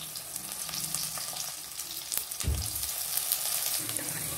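Ginger garlic paste with onions sizzles and crackles steadily in hot oil, with a soft stirring scrape partway through.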